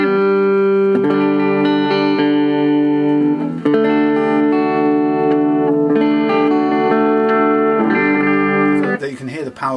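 Distorted electric guitar, an ultra-wide spaced six-string, plays sustained chords with heavy gain, ringing out loud and reverberant before a brief scrape at the end.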